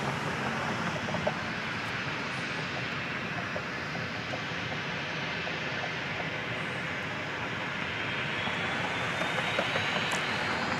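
Jet airliner taking off from runway 13 right at Dallas Love Field, a steady, loud broadband engine roar that holds evenly for about eleven seconds with no talk over it.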